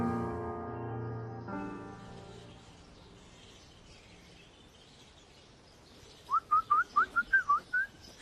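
Someone whistles a small signal whistle in a quick series of about eight short, bright chirping notes near the end, following faint music and a quiet stretch.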